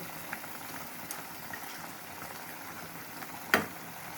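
A pot of mutton and drumstick curry simmering on the stove, with a soft continuous bubbling and a faint crackle, plus one brief sharp tap near the end.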